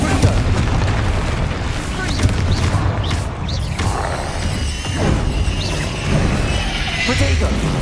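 Fire-spell explosions in the Hogwarts Legacy game, loud booms and crackling bursts landing one after another through a busy magical battle, with a voice shouting spell names over the din.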